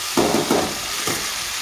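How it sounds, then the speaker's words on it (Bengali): Vegetables frying in a pan for a vegetarian breakfast dish, a steady close sizzle with a few brief stirring scrapes near the start and middle. "এখানে আমার সবজিগুলো খুব সুন্দরভাবে ভাজা হয়ে গেছে"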